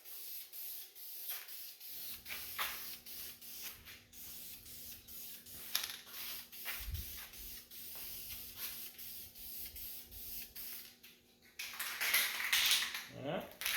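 Aerosol can of interior dye paint sprayed onto black trim inside a 1978 C10 pickup, steady hissing bursts repeating close by, with a longer, louder spray near the end.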